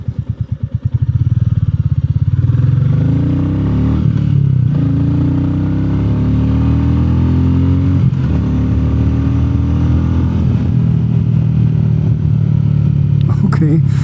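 A Royal Enfield Meteor 350 motorcycle fitted with a FuelX Pro module on its sporty setting 8 idles with a thumping single-cylinder beat, then revs up loudly and sustains several close, strong throttle blips.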